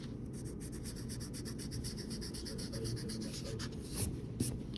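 A pencil sketches a multiview drawing on paper, producing close, continuous scratching strokes in quick repeated rhythm, with a couple of sharper scrapes near the end.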